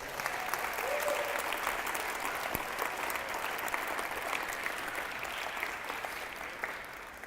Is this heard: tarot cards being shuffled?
no